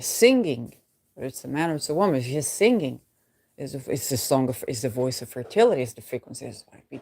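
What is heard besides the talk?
No everyday noise stands out behind the speech.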